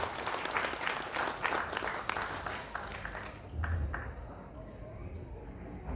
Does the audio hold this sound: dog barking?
no